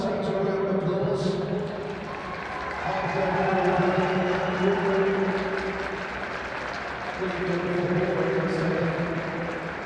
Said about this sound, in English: Let's give both our teams a round of applause.